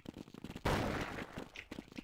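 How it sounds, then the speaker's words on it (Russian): An AK rifle fires one loud shot in a competitive multiplayer shooter match on the Tuscan map, a sharp crack with a long, rumbling decay over soft background game noise. "тут еще выстрел с АК на миде как будто"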